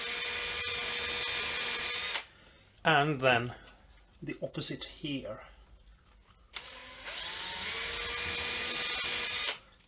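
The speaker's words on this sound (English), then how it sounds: "I'm gonna drill a tiny little hole there." A power drill whirs loudly for about two seconds while boring a tiny hole in a ukulele kit. Then it stops for a quiet stretch with brief talk, and the drill runs again for another few seconds.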